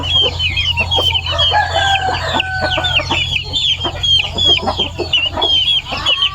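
A fighting rooster crows and clucks up close, with repeated sharp calls and other fowl chattering around it over a constant low background hum.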